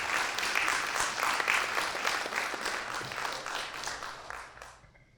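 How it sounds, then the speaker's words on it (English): Sustained applause from a conference audience thanking the sponsors of a renewable energy event, dense clapping that holds steady and then fades out toward the end. "A big applause to them."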